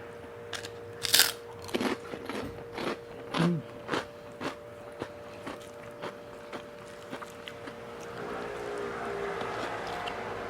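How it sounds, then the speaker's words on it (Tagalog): Crunchy chicharon pork rinds bitten and chewed up close, with sharp, loud crunches at the start giving way to softer rhythmic chewing, then a low steady background hum, with no talking. "tikman natin tong chicharon"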